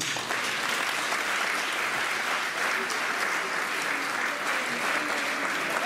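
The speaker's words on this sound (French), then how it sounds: "Arrêtez d'applaudir." A comedy club audience keeps up steady, dense applause for several seconds without a break. It is loud and continuous, with faint voices mixed in.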